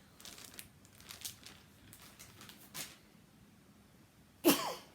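A single loud sneeze bursts out near the end after a few seconds of quiet rustling and soft breathing.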